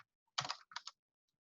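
A few quick keystrokes on a computer keyboard, two short clusters of clicky taps close by in an otherwise quiet room.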